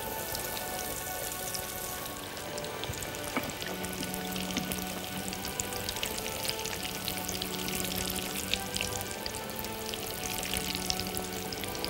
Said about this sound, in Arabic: حطيناهم في الدقيق والبيض والبقسماط، ودلوقتي نقليهم مع بعض